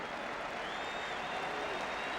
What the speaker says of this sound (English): Ellery Hanley, he'll receive a tremendous round of applause from the Wigan spectators as well.